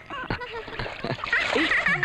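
A bag splashes into a river in a Malayalam film scene; a watery splash and sloshing build up near the end, following and overlapping voices talking.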